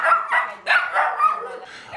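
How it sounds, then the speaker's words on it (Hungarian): Dogs barking at a winter animal shelter where many puppies await adoption: a quick run of about five sharp, close barks and yips in steady rhythm, with no talk over them. "Nagyon sok az örökbefogadásra váró kölyök kutya itt."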